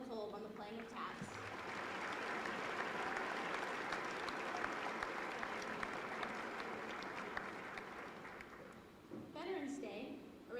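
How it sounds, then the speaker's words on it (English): School assembly audience applauding at a Veterans Day assembly after a performance of taps, a full, sustained roar of many hands lasting around eight seconds before fading, with voices heard briefly at the start and end. "A round of applause for Marcelo Kolb on the playing of taps."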